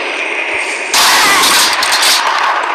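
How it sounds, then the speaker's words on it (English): A single gunshot rings out in an emergency-services roleplay scenario: after a quiet hum, one loud, abrupt blast hits and trails into a long, noisy, roaring tail that lasts about two seconds. "I shot her in the head and she's now dead"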